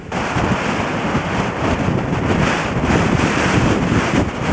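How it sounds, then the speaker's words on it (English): Strong, continuous wind buffets the microphone on the Cape Point coast, a dense roar blended with distant surf and no voices. "Very windy here."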